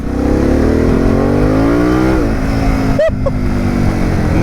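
A Harley-Davidson Pan America motorcycle engine roars close up under hard acceleration, its pitch climbing steadily before a gear change drops it, then building again.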